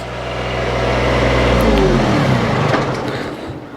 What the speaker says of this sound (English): Oh, she just tore up the driveway.